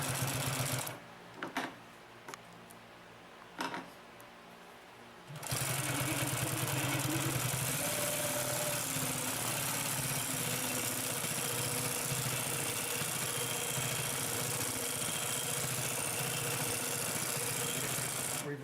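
Consew P2339 double-needle walking-foot sewing machine stitching through a thick eight-layer seam, running in a steady continuous mechanical hum and clatter after a few short, quieter bursts at the start.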